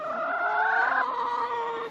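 Chickens in a hoop coop give a continuous, nasal, warbling cluck that rises and falls, close and moderately loud, with no talk.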